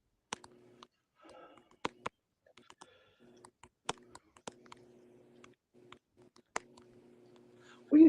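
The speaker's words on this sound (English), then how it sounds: "What are you typing in that private chat?" Typing on a computer keyboard comes as sparse, irregular sharp clicks and taps with brief gaps between them, near and fairly quiet over a faint steady hum, ending in a short louder burst.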